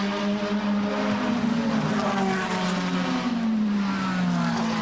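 DTM touring cars, including Mercedes entries, race at Hockenheim with a steady, loud engine drone whose pitch slowly rises and falls as the cars hold speed, continuous throughout with no pauses.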